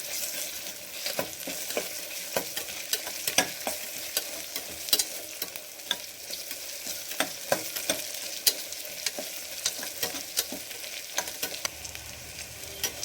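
Onion and ginger-garlic paste frying in a pan for mutton keema, a constant soft sizzle broken by frequent scraping stirs and light spoon knocks, close and steady throughout with no talking.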